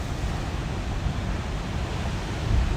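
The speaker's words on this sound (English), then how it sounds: "can you hear the crashing of the sea behind me" Rough surf crashes on a rocky shoreline at Boat Harbour on a wild sea, a steady, loud wash of breaking waves with a heavier surge near the end, no voices.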